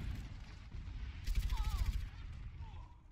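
Bursts of rapid Overwatch gunfire crackle at moderate volume, with a louder volley in the middle and faint chirpy effects around it.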